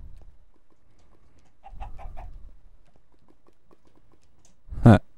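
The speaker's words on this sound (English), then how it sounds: "There's a chicken too." A Minecraft chicken gives a few short, faint clucks amid quiet game ambience, followed by a louder, sharper thump near the end.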